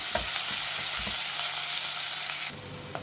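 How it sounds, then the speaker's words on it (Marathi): Green chillies and peas sautéing in a hot pan, a loud steady sizzle with a few stirring clacks against the pan, then the sizzle drops sharply near the end. "हिरवी मिरची आणि मटार हे छान परतून घेऊया"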